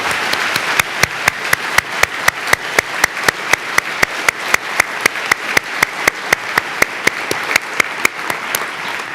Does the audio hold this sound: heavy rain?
no